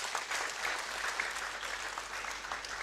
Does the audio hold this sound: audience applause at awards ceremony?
yes